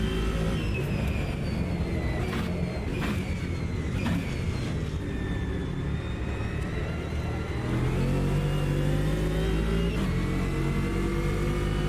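A McLaren race car in Automobilista 2 drives hard with its engine droning loud and close, pitch climbing through revs and gear shifts, a steady roar throughout.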